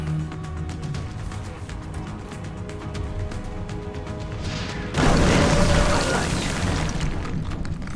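Weapon fire and an explosion in the XCOM: Enemy Unknown video game, a sudden loud, broad blast about halfway through that lingers as a rumbling wash, after a steadier stretch of low game sound.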